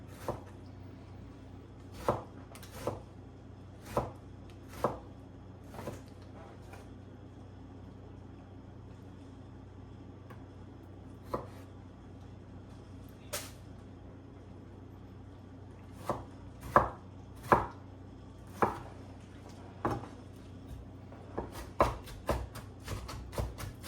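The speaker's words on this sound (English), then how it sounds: "Just gonna chop this up a little more finely." A knife chops tomatoes on a cutting board in sharp, close, irregular knocks, sparse at first and then clustering into quicker bursts near the end, with a quiet background between strokes.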